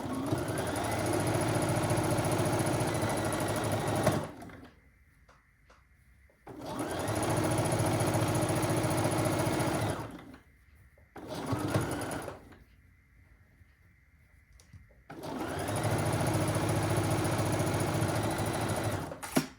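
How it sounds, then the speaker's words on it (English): A sewing machine stitches quilt block sets into rows for a Moon Cake quilt, running in three long steady bursts with a brief stop-start run between and quiet pauses in between. "So I am just going to sew my sets together into my rows."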